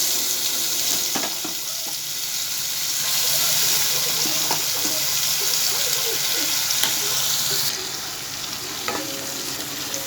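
Ground onion paste, made from two large onions, frying in a pan, with a steady broadband sizzle and occasional stirring scrapes; no talking.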